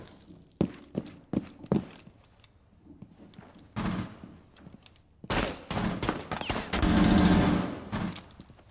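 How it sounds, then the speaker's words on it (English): Gunfire hits a Blackbeard shield in a Rainbow Six Siege-style shooter, a few sharp close shots early, then heavy sustained bursts with impact crunches and debris, no talking. "Did he just shoot through the Blackbeard shield, or did he destroy it?"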